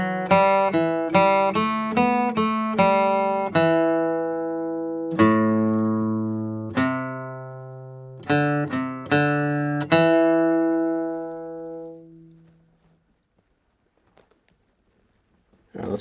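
Acoustic guitar plays the fiddle tune Cold Frosty Morning, measures 13 through 16, as a run of quick picked notes slowing into longer ringing ones and then fading to silence, close and unaccompanied.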